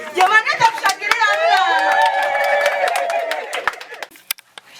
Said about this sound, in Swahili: Wakati anakata keki tunapiga makofi mengi na vigelegele